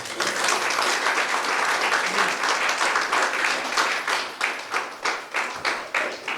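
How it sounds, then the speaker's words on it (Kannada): Audience applause at a children's hostel inauguration ceremony, a dense, loud burst of many hands clapping that carries on steadily, then thins into a looser, more distinct rhythm toward the end. "ಇದಕ್ಕೆ ನೀವು ಒಂದು ಜೋರ ಚಪ್ಪಾಳೆ ಹೊಡೆದು"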